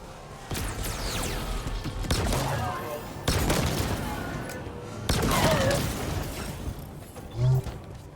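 Rapid bursts of video game gunfire and booms in Halo Infinite, with clattering mechanical effects arriving in several loud waves and someone talking intermittently over the action.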